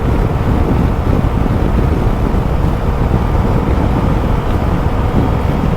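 A Keeway XDV 125 Evo 2025 scooter rides at full throttle downhill, its engine drone buried in heavy, constant wind rush over the microphone, loud and unbroken with no talk.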